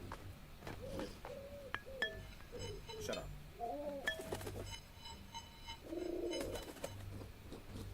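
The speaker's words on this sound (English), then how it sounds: "I don't like that bird. He's too loud. I don't like loud birds." A dove-like bird calls loudly and repeatedly, giving short hooting coos and chirps in an irregular rhythm close by, and a voice speaks briefly between the calls.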